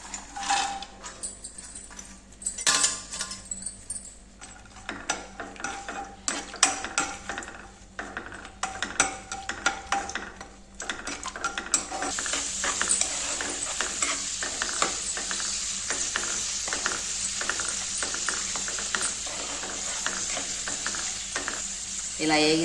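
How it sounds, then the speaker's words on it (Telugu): Lentils frying in a pan for ravva laddu, a steady sizzle and crackle with frequent metal spoon scrapes and clinks as they are stirred, growing busier partway through; a few faint voices sound now and then. "ఇప్పుడు ఈ పప్పులన్నీ వేపేసేద్దాం."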